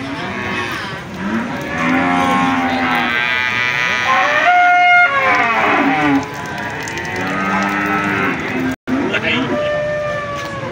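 Large Limousin and Simmental bulls at the Prambanan cattle market in Klaten, Indonesia, mooing in long, loud, close bellows one after another. Market chatter and a voice run faintly underneath.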